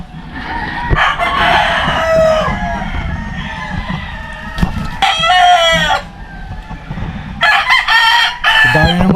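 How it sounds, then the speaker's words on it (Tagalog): Several roosters crow loudly in overlapping calls among clucking chickens, a dense barnyard chorus with repeated crows near and slightly farther off. "Dami ng manok, ano?"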